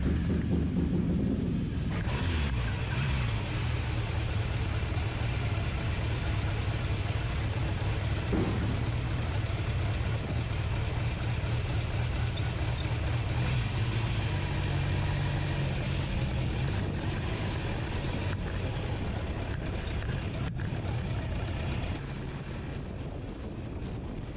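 Car ferry crossing on Hardangerfjorden in Norway, a steady low engine drone with constant wind rumble throughout, continuous and even, no voices.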